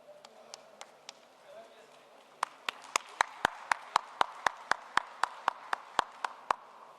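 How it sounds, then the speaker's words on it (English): Steady rhythmic clapping from an audience at a Poultry India event, starting with a few scattered claps and then building into an even, regular beat of sharp claps that fills the room. "Can we have a huge round of applause,"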